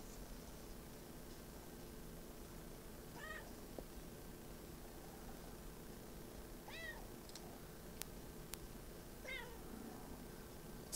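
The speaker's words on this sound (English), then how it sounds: "Meow." A cat meows three or four times at spaced intervals, faint and somewhat distant above a steady hiss of background noise.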